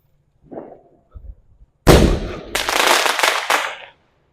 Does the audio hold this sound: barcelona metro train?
no